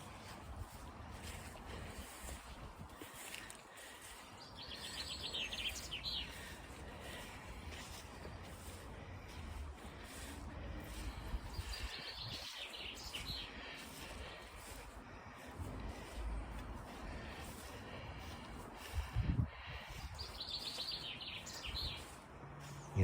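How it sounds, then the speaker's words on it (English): Faint bird chirps come in short bursts every few seconds over steady outdoor wind and water noise. "You can hear the birds."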